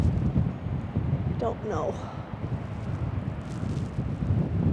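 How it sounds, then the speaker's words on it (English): Wind gusts buffet the microphone on a chilly, exposed hilltop at Spanish Point, a low steady rumble throughout, with a brief spoken remark partway through. "now it's getting pretty windy and chilly up here"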